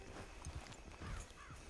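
Horse hooves clip-clop in Red Dead Redemption 2, a few soft, fairly faint hoofbeats at an unhurried walking pace against low ambient game sound.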